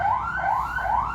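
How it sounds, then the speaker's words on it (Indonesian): An ambulance siren passing by in an Indonesian street, a steady wailing up-and-down tone cycling about three times, fairly distant and alone. "Sorry, ada ambulan lewat."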